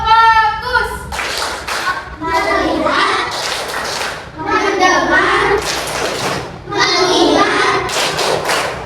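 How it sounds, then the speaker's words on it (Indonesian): Children in a classroom clap their hands in short rhythmic bursts between chanted counting, the claps loud and close with gaps of voice in between. "Tepuk satu, tepuk dua, tepuk tiga,"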